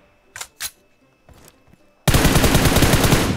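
Sustained automatic gunfire in a battle royale video game breaks out suddenly and loudly after a few faint clicks and quiet sounds, continuing as a dense, rapid burst to the end.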